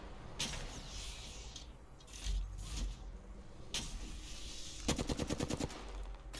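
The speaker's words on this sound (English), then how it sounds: "Whoa, getting shot at." Gunfire in Apex Legends comes in scattered bursts of close, sharp shots, ending in a fast rattling string of rapid fire, with quieter gaps and movement noise between volleys.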